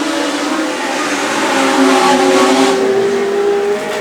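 Legend race cars circuit racing, with the 42 car running down the back straight: a loud, close engine roar climbs steadily in pitch under acceleration and then eases slightly as it passes.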